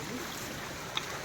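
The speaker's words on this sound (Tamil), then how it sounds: "இப்போ தண்ணி சவுண்டு கேட்டோன்னே லைட்டாக ஒரு குஷியாகவே இருக்கும்." Water rushes steadily at Marmala Waterfalls, a constant broadband wash over a short moment with no clear voices.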